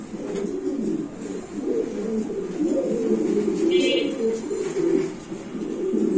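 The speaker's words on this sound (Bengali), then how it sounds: "সো আমরা আরেক জোড়া কবুতর দেখাচ্ছি আপনাদের" A pair of Grabber Lahori pigeons coo continuously and close by, a low, warbling, rolling murmur that carries on throughout.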